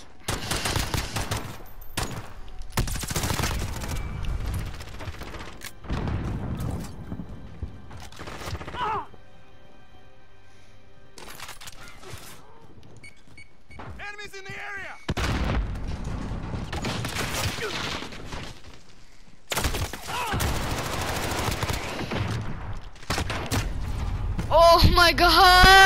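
Shooter video game gunfire with shotguns, an MP5 and pistols, coming in loud irregular bursts separated by quieter mechanical clicks, with voices talking over it.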